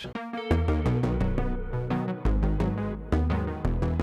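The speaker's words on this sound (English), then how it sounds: "I also added this guitar sound" Plucked guitar notes mixed into a busy, steady musical groove with bass and rhythmic accents, fairly loud and continuous, no voices.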